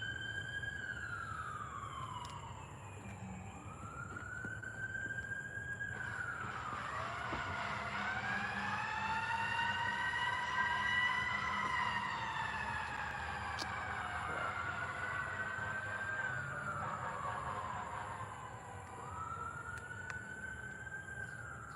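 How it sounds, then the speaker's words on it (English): Ambulance and fire truck sirens wail in the distance outdoors at night, overlapping rising and falling tones that swell as they pass and then fade, with a faint constant hum underneath. "Oh no, that's an ambulance, fire truck."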